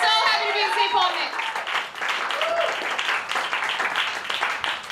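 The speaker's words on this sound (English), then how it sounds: "Keep your applause rolling." Audience applause at a live music show in St. Paul, a dense crowd clapping with scattered cheers, with a voice speaking over it near the start.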